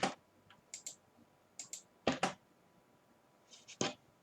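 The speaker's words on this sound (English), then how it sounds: "I hit the enter key." Keys tapped on a computer keyboard, ending with a press of the enter key: a handful of sharp plastic clicks in small pairs and clusters across a quiet room, with a louder double strike near the middle.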